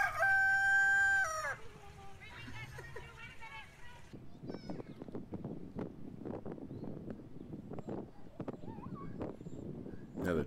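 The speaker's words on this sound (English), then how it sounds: "Another chicken. Really bushy legs." A rooster crows loudly and close in an animal compilation, its long call opening the clip, followed by rustling, clucking and wind buffeting the microphone.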